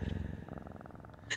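Steady, close purring from a cat in the video game Lethal Company, a low rhythmic rumble pulsing evenly for the whole short stretch, ending with a brief brighter click.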